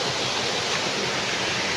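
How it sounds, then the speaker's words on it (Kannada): A rain-swollen stream runs full of water, a dense, steady rushing roar close by with no break or change. "ಗಾಯ್ಸ್, ನೋಡ್ಬೋದು, ನಾವೀಗ ತೋಡಿನ ಬಳಿಗೆ ಬಂದಿದ್ದೇವೆ."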